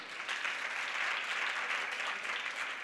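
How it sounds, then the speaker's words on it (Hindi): An audience at a religious discourse claps together in a steady, even wash of applause that holds at a constant level for a few seconds. "एक बार तालियां बजाओ तुम"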